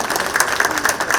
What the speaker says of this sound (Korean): 두 분께 박수 한번 부탁드리겠습니다.